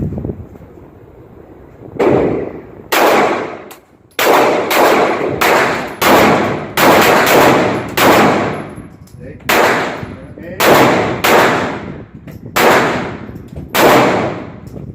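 Handguns fire slow, aimed shots during concealed carry training at a shooting range, loud sharp reports spaced about a second apart, a dozen or so blasts from several shooters with short pauses between.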